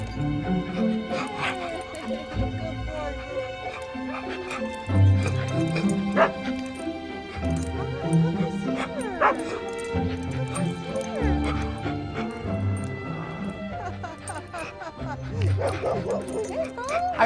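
Rufus, a disabled dog fitted with boots, whimpers, yips and barks repeatedly at close range, the cries rising and falling under steady talk from a nearby person.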